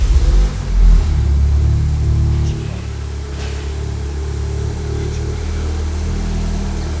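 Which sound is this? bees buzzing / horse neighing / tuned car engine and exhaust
tuned car engine and exhaust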